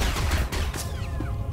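Rapid bursts of blaster gunfire from the Star Wars: The Old Republic video game, a quick cluster of sharp shots in close succession under game audio, with no speech.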